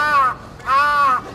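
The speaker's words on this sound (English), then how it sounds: "that's a very, very noisy crow" Two loud, harsh caws from a crow perched close by overhead at night, one right after the other.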